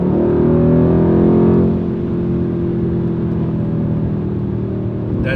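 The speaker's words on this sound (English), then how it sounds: "I think this is the best sounding V8 turbo in the market right now, for sure." Twin-turbo V8 of a 2019/2020 Mercedes-AMG C63S facelift, a loud, steady engine drone that eases slightly after the first two seconds and holds on, close and alone.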